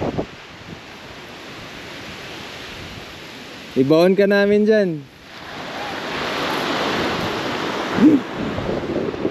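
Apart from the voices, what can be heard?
strong ocean waves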